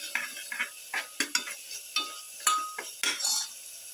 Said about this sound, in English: Thoroughly mix.